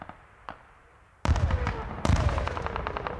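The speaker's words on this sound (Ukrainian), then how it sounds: "І свистять снаряди, і вибухають тут." Artillery shells and gunfire near Robotyne, Ukraine: two faint distant thuds, then two loud close blasts at about 1.2 and 2 seconds, each followed by a long rumbling, crackling tail.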